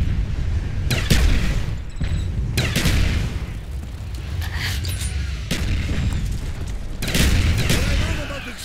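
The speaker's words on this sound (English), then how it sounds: "What I love about explosions is the explosion part." Explosions in the Call of Duty Black Ops Zombies map Ascension, several heavy blasts with bursts of gunfire spaced across the clip over a dense, loud game soundscape.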